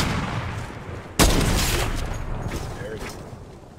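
Gunfire in the battle royale game Apex Legends, with a sharp loud shot opening a sustained burst of firing that trails off, layered with busy game noise and voices talking over it.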